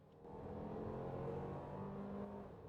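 A 2024 Toyota Grand Highlander Limited three-row SUV with an 8-speed automatic accelerates in traffic, its engine note rising to a steady, sustained drone heard close from inside the cabin with no talk.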